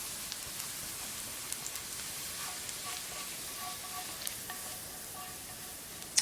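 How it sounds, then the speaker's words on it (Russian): Onion fries in a pan in a village kitchen, a steady, fairly quiet sizzle with a faint crackle throughout and no voices. "Мне так нравится вот этот аромат лука, когда он жарится"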